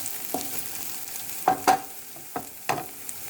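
Sliced onions sizzle quietly in a pan for a capsicum gravy curry, with a few sharp scraping stirs of a spatula cutting through the soft frying hiss.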